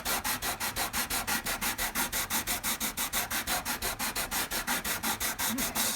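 Coarse 80 grit sandpaper rubs along a guitar fretboard on a Takamine EG341-SC acoustic-electric guitar in steady back-and-forth strokes, roughly four per second, close and evenly paced with no talking.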